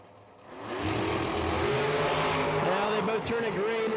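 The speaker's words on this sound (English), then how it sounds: "Turning green, we got ourselves a drag race." Drag race cars, including a Bear Delaware-built machine set up in 2012, launch side by side on a 1,000-foot track: a quiet moment, then a loud sustained roar of engines with rising revs and brief tire chatter, an announcer talking over it.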